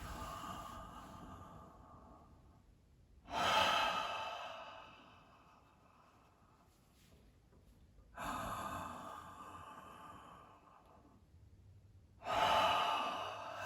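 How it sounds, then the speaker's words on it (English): Deep, forceful breaths drawn in and pushed out through an open mouth during a breathwork session, three loud surging breaths a few seconds apart, with quieter airy exhales between them and no talking. "Breathe the breath in through your mouth as an expansiveness through your body."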